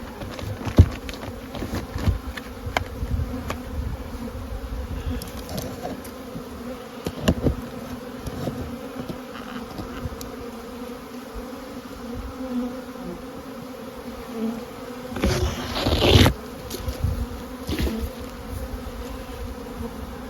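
Bees buzzing around a beehive during a spring feeding round, a dense steady hum of many insects close to the microphone, with occasional louder passes and knocks near the end.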